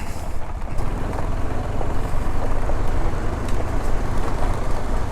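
Motorbike ridden slowly over a badly broken mountain road in Nepal's Dolpa region, giving a steady engine drone mixed with heavy wind buffeting and rattling, continuous and fairly loud with no talk.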